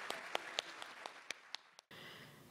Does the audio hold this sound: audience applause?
yes